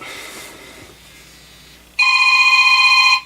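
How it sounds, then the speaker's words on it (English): Mobile phone ringtone starts abruptly and rings loud and steady at close range, after a stretch of quiet room noise. "My phone is gonna ring and ruin this."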